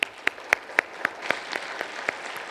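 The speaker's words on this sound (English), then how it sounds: "One more round of applause for me." A small audience at a law school swearing-in ceremony claps in sharp, evenly spaced beats, roughly four per second, over faint background murmur.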